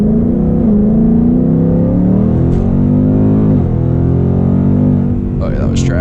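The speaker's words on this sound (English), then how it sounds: "I'm gonna be a little lighter on the throttle," 2022 Ford Mustang GT accelerating from a start in first gear, a loud close engine drone rising steadily in pitch, then dipping and climbing again, with a voice speaking over it.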